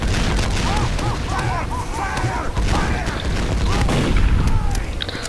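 Rapid gunfire crackles in a Team Fortress 2 match, dense and continuous over game noise, while a player talks over the shooting throughout.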